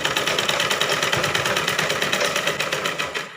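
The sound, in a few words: sewing machine stitching a blouse seam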